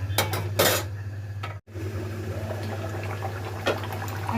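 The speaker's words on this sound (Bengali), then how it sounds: "এখন আমি নেড়ে নিচ্ছি।" A spoon stirs a beef curry with papaya and potato in a pot, making close clanks and scrapes against the metal over a steady low hum, with a brief cut partway through.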